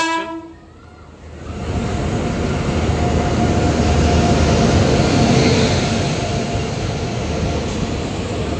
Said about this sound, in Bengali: হাওড়া ব্ল্যাক ডায়মন্ড এক্সপ্রেস 4 নম্বরে আসছে। তো আমার গাড়ি ঢুকেও গেছে।